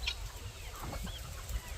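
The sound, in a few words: purebred chickens clucking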